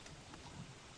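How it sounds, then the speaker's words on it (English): Steady rain falls in a survival crafting video game, a soft continuous hiss of drops with faint low rumbles, quiet and even throughout. "And of course it's raining."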